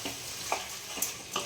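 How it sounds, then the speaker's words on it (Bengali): Chicken meat fries in spiced masala in a pan for a chicken curry, sizzling steadily under a few short spatula scrapes and stirs, close up with no voices. "মাংসটা দিয়ে দিলাম, এরপরে কষবো।"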